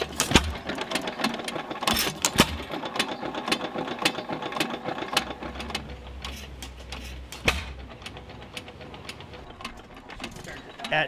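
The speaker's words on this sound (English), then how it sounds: "wanted to give you a quick little brief on my hit and miss motor, on how much I love this thing and how simple it is." An antique hit and miss engine runs nearby, giving a steady mechanical clatter of repeated clicks and knocks, with a few louder sharp bangs and a low hum in the background.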